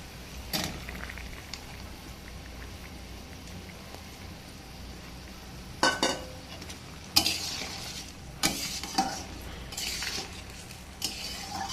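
Lightly fried hilsa fish going into a simmering brinjal curry: a low bubbling sizzle underlies several sharp bursts of utensil scraping and stirring against the pot, with no one speaking.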